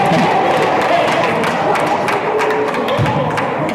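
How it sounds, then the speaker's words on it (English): A high school basketball crowd at Ascension Episcopal gives loud, scattered, sarcastic applause in a gym, claps and crowd noise filling the space with an occasional thud. "The Ascension Episcopal crowd with a sarcastic bit of applause"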